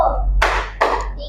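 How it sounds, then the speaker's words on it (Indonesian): Two sharp, loud hand claps from a group of classmates sound about 0.4 seconds apart during a counting game, where clapping replaces the even numbers, with faint room hum between them. "Untuk bilangan genap, nanti tepuk tangan ya, seperti ini."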